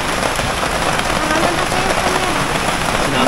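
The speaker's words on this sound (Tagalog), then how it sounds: "Sinabot na ng ulan." Heavy rain pours down without a break, a loud dense hiss of drops close by, with faint voices under it.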